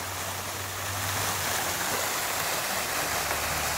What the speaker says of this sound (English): We've got some waterfall, water displays.